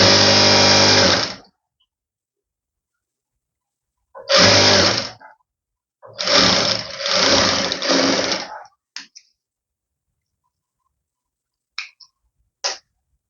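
A sewing machine stitches the pleats of a nightie in loud, close bursts of rapid mechanical whirring, one long run, then several shorter runs separated by pauses, ending in a few brief clicks.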